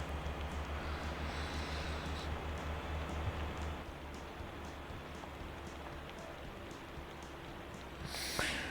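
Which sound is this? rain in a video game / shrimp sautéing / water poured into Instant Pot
rain in a video game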